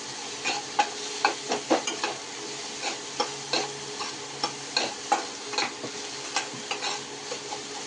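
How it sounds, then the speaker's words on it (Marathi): Finely chopped onion frying in a pan until golden brown, a steady soft sizzle under regular stirring scrapes and light clicks of a spoon, close up with no voices. "बारीक चिरलेला कांदा, तो मस्त गोल्डन ब्राऊन आपण परतून घेऊया"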